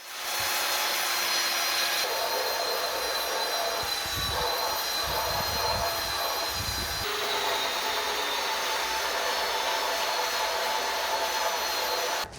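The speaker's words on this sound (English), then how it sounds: "So I'm going to go ahead and take the belt sander and get a little bit more aggressive with my sanding." A belt sander grinds steadily across a live edge wood console table, its continuous high whine and rough abrasive hiss running close and loud without pause for over ten seconds.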